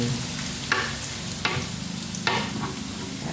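Garlic stir-frying in a flat steak pan, with a low continuous sizzle broken by three sharp scraping strokes of the spatula, and no one talking.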